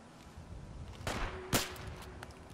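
Suppressed gunshots from a video game weapon fitted with a silencer: two short, muffled bursts about half a second apart over quiet, steady game background noise, with no voices.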